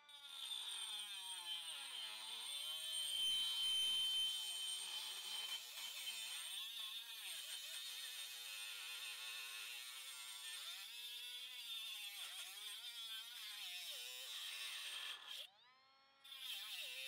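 A Milwaukee 12V cut-off tool with a metal cutoff blade grinds through 1-inch Type L copper pipe, a steady high-pitched whine that shifts and wavers as the blade bites, briefly stopping near the end before starting again.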